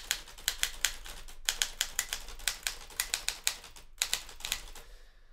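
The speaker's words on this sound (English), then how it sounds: "listening to the clacking of the keys" Typewriter keys clacking at a cabin retreat, a steady run of sharp, close strikes in bursts with two short pauses, alone and fairly quiet.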